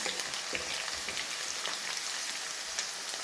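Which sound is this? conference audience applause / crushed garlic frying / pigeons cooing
crushed garlic frying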